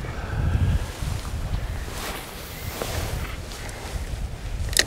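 Wind gusts across a fishing lake, rushing against the microphone with broadband noise and low buffeting rumble. The gusts stay fairly steady and fill the whole stretch.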